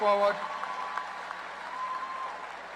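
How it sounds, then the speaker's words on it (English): A commencement audience at North Carolina Central University's 2017 winter ceremony breaks into warm applause for the graduates, a sustained crowd clapping that follows a brief spoken voice and stays fairly distant. "Please join me in congratulating and giving them a warm applause on this remarkable journey and achievement"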